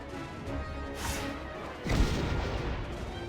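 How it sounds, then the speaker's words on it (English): A smoke bomb goes off in the War of the Visions video game, a single muffled burst followed by a spreading hiss and rumble, loud and close. "Damn it! A smoke bomb!"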